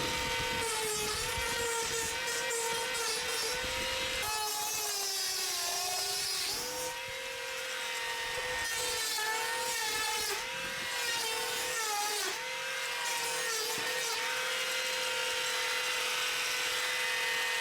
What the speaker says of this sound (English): Some areas require the Paintshaver to be tilted in a slight angle for the old paint to be removed.